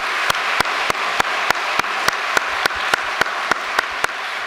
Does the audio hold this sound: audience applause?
yes